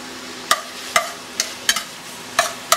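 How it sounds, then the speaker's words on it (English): Risotto with Italian sausage is stirred in a pan, a spoon scraping and tapping in six distinct strokes at an uneven rhythm over a faint background hiss, close up with no talking. "And I don't want this to burn at all, so constantly stirring it"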